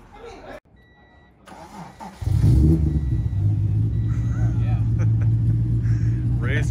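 A race car engine cranks and catches at a collector car auction, settling into a loud, steady rumbling idle after a brief quiet stretch.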